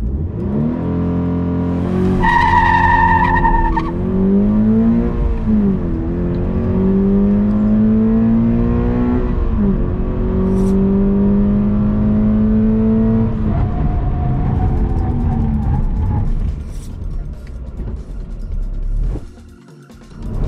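A 2021 Toyota 86 GTS accelerates hard from a standstill, engine loud and close, climbing through several gear changes with rising and falling revs, then lifting off and braking to a stop, ending in a brief quiet.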